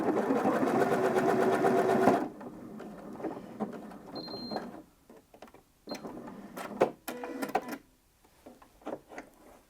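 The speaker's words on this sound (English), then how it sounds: "So I'm going to do the final bar tack now" A sewing machine runs a fast, steady burst of stitching for the final bar tack of a buttonhole, then stops, followed by scattered close clicks and mechanical handling noises.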